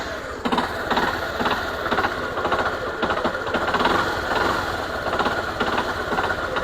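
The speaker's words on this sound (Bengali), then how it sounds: "বাইকটা কিন্তু খটখট খটখট করে সাউন্ড করতেছে, মনে হচ্ছে কানেক্টিং রড নষ্ট হয়েছে।" Yamaha motorcycle engine idling with a rapid, regular metallic knocking from a suspected damaged connecting rod, loud and close, the rattle beating evenly throughout.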